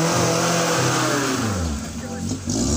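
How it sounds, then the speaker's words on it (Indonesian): Engine revving from a green toy off-road car, a steady mid-pitched whine that fills the short stretch and is loud and close, with harmonic sweeps rising and falling. "Ini mobil off-road warna hijau."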